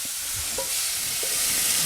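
Onions and beans frying in a pan over an outdoor campfire beside a camper van, with a steady close sizzle and occasional faint stirring scrapes, no voices.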